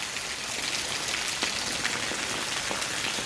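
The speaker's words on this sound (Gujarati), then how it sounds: "તો આજે આપણે ધીનો ધીનો વરસાદ ચાલુ થયો" Light rain falls steadily on an August day: an even, continuous hiss of fine drops with a few faint individual pattering taps, no voices.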